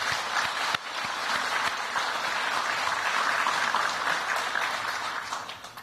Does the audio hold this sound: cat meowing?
no